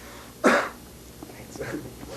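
A single sharp cough bursts out near the start of an oral history interview, followed by quieter breathy sounds and faint murmuring.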